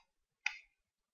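A single quiet mouse click, one short sharp tick standing alone in near silence.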